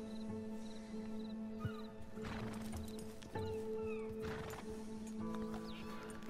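A horse's hooves clip-clop along in Red Dead Redemption 2 while it whinnies and snorts, with ambient game sounds layered underneath.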